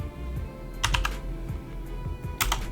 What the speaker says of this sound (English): Once you've typed that in, hit enter.